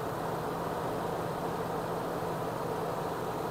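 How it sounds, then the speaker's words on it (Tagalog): A steady, quiet whir of a car engine cooling fan blows on without change, an even airy hum with no voices. "Yung fan lang yung naririnig."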